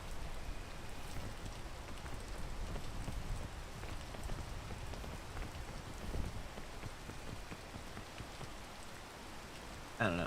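Steady rain pattering on surfaces in the survival climbing video game Peak, a continuous dense hiss of drops that stays even throughout with no voices.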